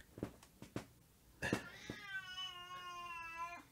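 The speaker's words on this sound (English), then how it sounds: "I hear the cat." A cat gives a drawn-out, clear meow after a few soft taps and rustles, close by and fairly quiet in a still room.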